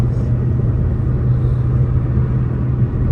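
A red car on the move, a steady low engine and road rumble heard from inside, even and continuous with no speech.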